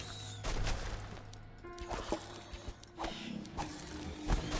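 Repeated explosions in the dark fantasy game Book of Demons, a run of sharp booming bursts spaced irregularly over a steady low game soundscape, fairly loud and close.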